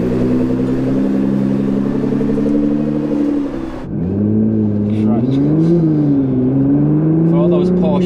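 An Audi RS4's engine rumbles loud and close, holding a steady drone, then dips briefly before revving back up with rising and falling pitch as the car pulls away, with a brief voice over it.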